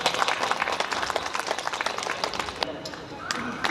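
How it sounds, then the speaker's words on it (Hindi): An audience at a Shiv puja and Maharudra yagya gathering claps with fast, scattered applause that stays close and fairly loud. It tapers slightly toward the end. "जोरदार ताली बजाएं आप लोग।"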